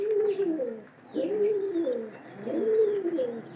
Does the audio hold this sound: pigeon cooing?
yes